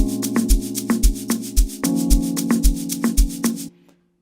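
Conga playing a triplet rhythm with varying hit strength in an amapiano beat, repeated pitched drum strikes over a steady kick pattern, ending abruptly.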